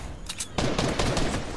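Rapid bursts of gunfire from the video game Fortnite rattle out in quick succession, a few sharp shots followed by a dense, loud volley close by.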